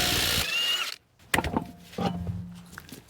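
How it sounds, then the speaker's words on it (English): A power drill fitted with a cleaning wheel scrubs rust off the threads on a 2015-2020 GMC Yukon front wheel hub, a steady high whir for about a second before cutting off, followed by scattered clinks of tools. "we could take a drill with a cleaning wheel and just clean that off really good"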